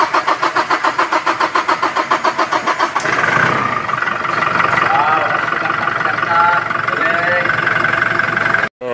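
A 2019 Toyota Hilux with a 2GD diesel engine cranks in rapid rhythmic pulses, then starts and settles into a steady close idle. A voice speaks briefly over the running engine.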